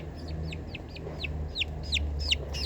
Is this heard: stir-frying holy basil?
no